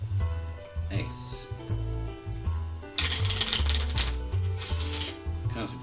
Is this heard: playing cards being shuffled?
yes